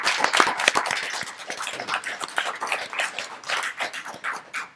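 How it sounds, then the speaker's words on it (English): A crowd at a Dental Board of California meeting claps in a dense burst of applause that holds steady for several seconds, then starts to thin out. "joining me in a round of applause for him"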